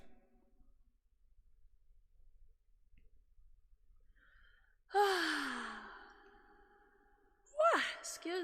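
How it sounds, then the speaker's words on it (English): A person gives a long, drawn-out yawn rising into a sighing exhale, fairly close, followed a few seconds later by a second, shorter yawn-like breath; there is otherwise near silence. "Talk about a yawn."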